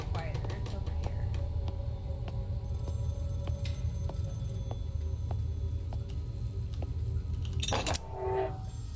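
A phone rings repeatedly in a video game, evenly spaced bell-like trills over a steady low rumble, fairly faint and distant, with a brief louder burst near the end.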